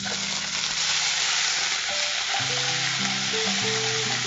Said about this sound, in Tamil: ஸோ வெங்காயம் நல்லா டீப்பா ஃப்ரை பண்ணதுக்கு அப்புறமா இஞ்சி பூண்டு விழுது சேர்க்கிறாங்க.